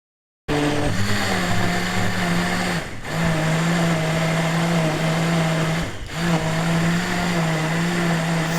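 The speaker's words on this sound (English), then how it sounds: "so that you can listen to the blender noise and see" A Bardefu 6 in 1 blender runs loud and steady with a high motor whine, dropping off briefly twice before spinning back up, with no voices.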